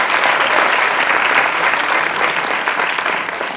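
Students in an audience clap loudly and steadily for the full few seconds, a dense wash of applause with a few cheers mixed in, tapering slightly at the end.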